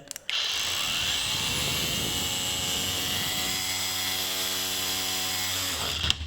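An angle grinder fitted with an oscillating renovator attachment runs continuously, a loud, high, buzzing whine with a shifting, rattling undertone, starting after a couple of clicks and ending as it winds down.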